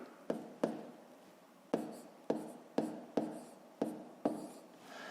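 Pen or pencil tapping and scratching out numbers for a fifth-grade maths multiplication exercise, seven sharp separate strokes with short pauses between, close and quiet, with no voices.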